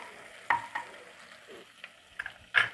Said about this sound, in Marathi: व्यवस्थित फ्राय करून घ्यायची कोथिंबीर पण याच्यामध्ये.